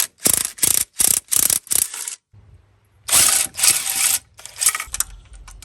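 Impact wrench driving bolts on a third-generation Camaro engine, held one-handed: five sharp close bursts in quick succession, a pause with low hum, then three more longer rattling bursts.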